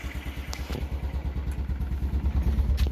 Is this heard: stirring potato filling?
no